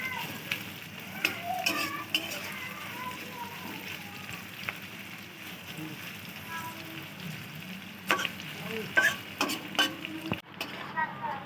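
Onions for a Bengali potol chingri dish fry in oil while being stirred, a soft continuous sizzle with scattered spatula taps and scrapes, growing busier toward the end.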